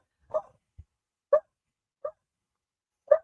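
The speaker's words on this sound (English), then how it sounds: "I wonder if you guys can hear the dog barking" A dog barks four separate times, sharp single woofs spaced about a second apart, fairly close in an otherwise quiet room, with no talking.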